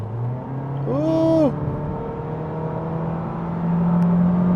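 A 2026 Honda Civic Sport with a CVT accelerates from a rolling start, its engine hum rising into a steady whine heard from inside the cabin, with a brief exclamation from the driver.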